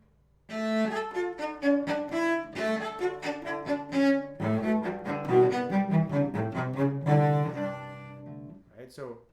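A cello piece played at a faster tempo, as a quick, steady stream of bowed notes. The tone is close and bright and ends in a brief faint scrape, with no talking.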